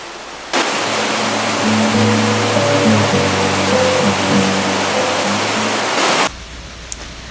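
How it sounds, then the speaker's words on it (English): Bruce Creek Falls, also called Little Egypt Waterfall, four consecutive cascades on a stream, roaring as a loud, steady broadband rush that cuts in abruptly and stops just as suddenly near the end. "These 4 consecutive waterfalls, named Bruce Creek Falls, or also known as Little Egypt Waterfall, help dissipate the stream's energy."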